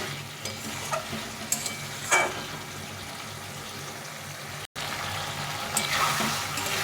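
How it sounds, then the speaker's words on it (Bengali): Vegetables being stir-fried in a pan with hot water added bit by bit, a steady sizzle and scraping of stirring with brief splashes and clinks, fairly quiet and without talk. "আমি অল্প অল্প জল দিয়ে দিয়ে এই সবজিটাকে কষিয়ে নিচ্ছি"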